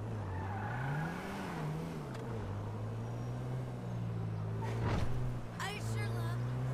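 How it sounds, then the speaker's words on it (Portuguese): A car driving in the video game GTA 5, with a loud steady engine hum rising and falling in pitch, then sharp tire skids and squeals near the end. "Agora irei pegar um veículo maneiro."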